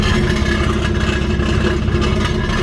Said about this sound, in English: That's my exhaust rattling.